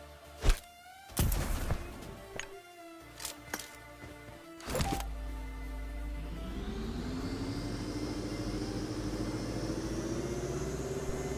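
A vehicle engine in the video game BGMI starts up after a few sharp thuds and then holds a steady, rising drone, close and fairly loud.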